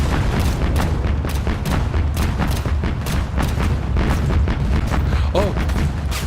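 In the Mount and Blade mod Total Conflict: Resistance, a string of game explosions and gunfire fills the scene, with rapid booming blasts and cracks overlapping loudly and continuously for several seconds.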